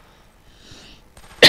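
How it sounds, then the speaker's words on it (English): A single short, sharp cough comes right at the end after near silence, close to the microphone, from someone commentating on Killzone 3 gameplay. "I have a bit of a cough there."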